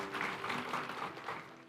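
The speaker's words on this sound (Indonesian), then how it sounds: "Tepuk tangan bagi Tuhan" An audience in a church sermon applauding, a moderate wash of many hands clapping in soft pulsing waves that fade slightly over under two seconds.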